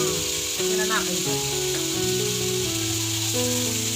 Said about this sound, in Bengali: জমির থেকে টাটকা সর্ষে শাক তুলে আনা হয়েছে, সর্ষে শাক ভাজা হবে।